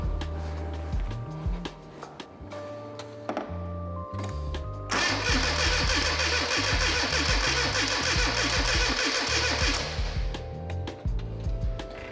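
A classic Rover Mini Cooper engine cranking without fuel reaching it: several seconds of loud, steady starter churning that cuts off abruptly, with quieter mechanical clicks and shuffling before and after.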